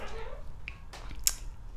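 A house cat gives a short, faint meow near the start, followed by a few small clicks and a sharp snap-like tick, set against quiet room tone.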